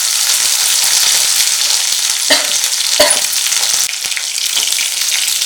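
Tempering of curry leaves and asafoetida frying in hot oil for ridge gourd dal, a steady loud sizzle with a few sharper crackles and pops, close and alone with no talking.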